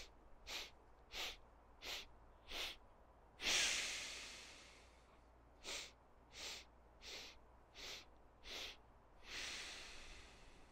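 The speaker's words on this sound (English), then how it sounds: "Smooth exhale out." Sharp rhythmic nasal breaths from a breathwork exercise, a quick series of short inhales, then a long smooth exhale, then another run of short breaths ending in a longer exhale, close and clear with no speech.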